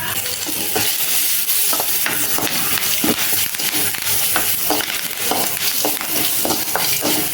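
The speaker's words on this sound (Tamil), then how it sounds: "நல்லா பொரிய ஆரம்பிச்சிருச்சு." Onion and curry leaves fry in hot oil for crab gravy, a continuous crackling sizzle broken by repeated stirring scrapes in an uneven rhythm, close and fairly loud, with no speech.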